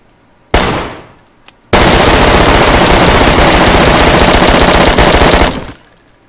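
M4 rifle firing in DayZ: a single loud shot with a decaying tail, a brief pause, then a sustained rapid full-auto burst of about four seconds, very close and loud, ending in a fading echo.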